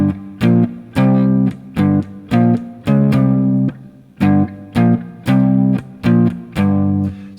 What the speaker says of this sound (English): they just simply turn that riff into power chords